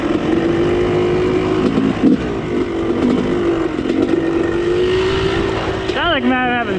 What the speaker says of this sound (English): Sounds like I might have an exhaust leak.